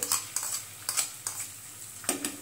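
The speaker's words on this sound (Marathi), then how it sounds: "त्यामध्ये आपण 2 कांदे बारीक चिरून घेतलेले आहेत, ते परतून घेऊ।" Two finely chopped onions are stirred in melted butter in a pan for pav bhaji. A spatula scrapes and clinks against the pan in short, irregular strokes over a faint, quiet sizzle.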